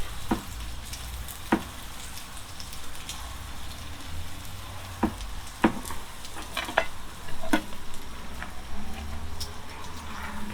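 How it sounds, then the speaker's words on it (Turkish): Bread warms on an oiled griddle at a street food stall making Ödemiş köfte, a soft steady sizzle broken by several sharp scraping and tapping clicks from a utensil. "Güzelce ekmeği ısıtıyorsun."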